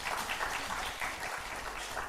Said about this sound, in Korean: 박수 한번 해줘요